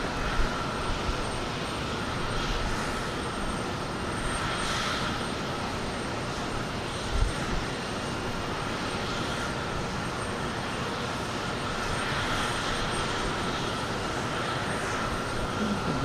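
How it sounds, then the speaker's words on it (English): A United Express Embraer regional jet taxis slowly past at close range at Houston Intercontinental airport, its engine whine a steady, continuous drone with broad rumble that holds level throughout, no voices present. "A nice close-up look at this United Express. Embraer as it taxis slowly by us, waiting for a gate."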